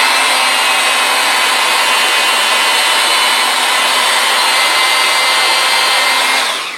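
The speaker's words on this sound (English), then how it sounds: "let me spin up the brass flywheel on this gyroscope" A brass gyroscope flywheel spins up, giving a loud, steady broadband whir with a faint whine that holds for the whole stretch and tapers off at the very end.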